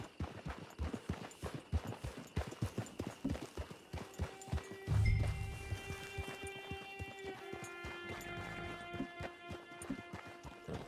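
Horse hooves in the video game Red Dead Redemption 2 clop in a steady walking rhythm, fairly faint, then fade under a sustained musical drone.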